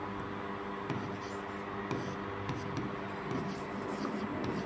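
Pen or pencil scratching across paper while maths working for a Class 10 polynomials problem is written out by hand, a soft continuous scribbling with small strokes, steady and close throughout.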